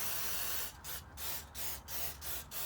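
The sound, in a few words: spraying brake cleaner from a can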